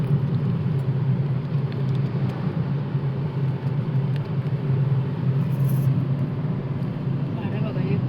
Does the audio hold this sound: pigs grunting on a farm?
no